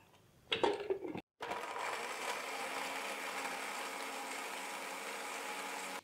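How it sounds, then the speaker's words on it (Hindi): A kitchen blender runs steadily on mint lassi made with milk, mint leaves, salt, cumin and eight ice cubes, a brief burst and pause before a continuous loud whir that holds to the end. "तो ये 8 आइस क्यूब्स हम इसमें ऐड कर देंगे और इसको हम ब्लेंड कर लेंगे।"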